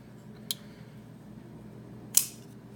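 A ValTac flipper knife snaps open with two crisp metallic clicks, one lighter and a sharper louder one about a second and a half later, close and alone.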